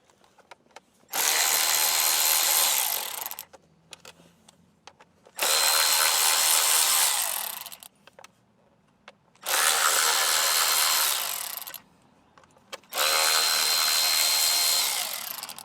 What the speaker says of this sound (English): let's get these bolts out of it